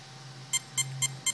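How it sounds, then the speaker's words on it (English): A low steady hum runs throughout, then several short high-pitched electronic beeps from a Castle Mamba electronic speed controller in programming mode sound at an even rhythm close by. "And then 1 beep, so it'd be motor type."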